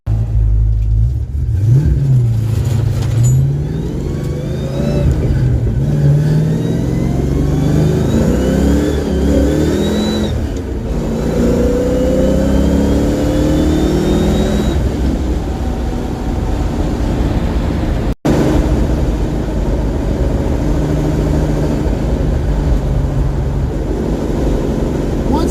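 Car with loud tailpipes and a rebuilt Ford 8.8 rear axle cruising at about 40 mph, a steady loud engine rumble and road drone that rises and falls as the engine revs, continuous throughout.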